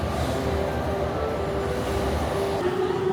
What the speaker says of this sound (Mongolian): За метро хөдлөж байна.